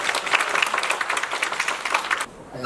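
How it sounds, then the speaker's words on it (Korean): An audience at a world ecotourism conference applauds a keynote speaker, with steady, lively clapping for a little over two seconds that then drops away into a quieter room. "Please greet him with a big applause."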